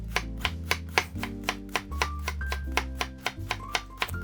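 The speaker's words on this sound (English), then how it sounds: "Let's slice it thinly, just like this." A knife slices a cabbage thinly by hand for sauerkraut, a quick, even run of crisp chopping strokes against a board, close and distinct, with no talking.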